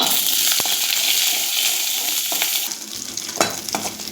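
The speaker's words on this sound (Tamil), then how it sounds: "இதை வதக்கிக்கலாம்." Small shallots and about ten garlic cloves sizzle steadily in hot oil in a pan, with a constant bright frying hiss, occasional stirring clinks and a spoon knock near the end.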